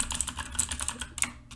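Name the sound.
computer keyboard being typed on and slapped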